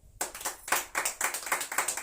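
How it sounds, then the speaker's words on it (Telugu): An audience claps loudly and briskly in a church gathering, a close run of sharp, rhythmic hand claps following a brief quiet start. "గట్టిగా చప్పట్లు కొట్టండి."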